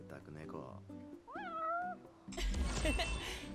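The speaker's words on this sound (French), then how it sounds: "Ah bah il avait faim le chat." A cat meows once in Final Fantasy XV, a clear rising-falling mew in the middle, with someone talking before it and busy game sounds swelling after.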